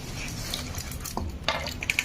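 Oil-coated raw mango pieces for avakkaya pickle being tossed in chili powder, faint soft scraping and stirring with a few light clinks against the bowl near the end.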